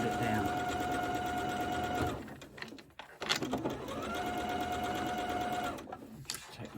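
A sewing machine stitches a seam on a Japanese quilt in quick, steady bursts: a fast run, a brief pause with handling noise, then another run. A person speaks in between.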